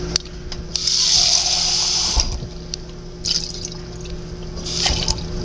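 Water pours from a tap into a microwave fajita mix in a bright hissing stream lasting about a second, followed by quieter splashes and drips in a kitchen.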